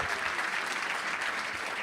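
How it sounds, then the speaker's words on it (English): Audience applause at a live Memory Palace show, steady dense clapping from a full room filling the whole stretch at even loudness. "How about another round of applause for Nate DiMeo?"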